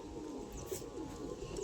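Mukhi pigeons cooing softly, low throaty coos amid a faint, noisy background, heard briefly with no talking.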